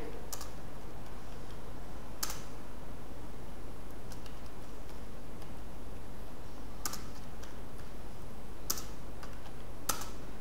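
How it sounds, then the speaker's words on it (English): Keys on a computer keyboard click in short, scattered bursts of typing over a steady background hiss, with no talk. "I'm typing here."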